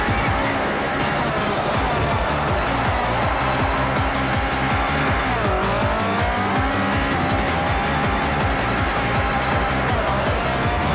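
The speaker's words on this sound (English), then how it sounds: "took the car through another corner, this time sliding the back around the outside" A Honda CR-X drifts through a mountain corner, its rear sliding wide while the tires squeal over a loud, steady engine roar that fills the whole stretch.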